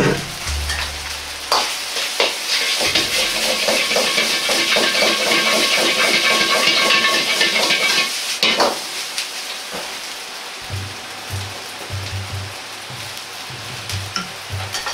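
Fried rice ingredients stir-fried in a hot pan, a loud dense sizzle with scraping and tossing for several seconds, then quieter sizzling with rhythmic stirring clanks near the end.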